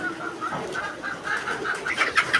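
Pigeons or doves coo softly and continuously at a moderate distance, with faint background noise and no clear talk.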